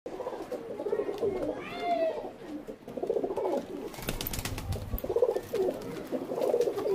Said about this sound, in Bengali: আর এই পায়রাটা দেখো